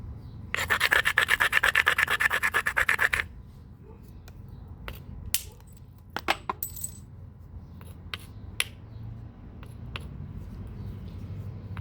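A sandstone hammerstone strikes stone ridges, opening with a fast burst of rasping, scraping strokes, then a few scattered sharp clicks and taps over quiet background.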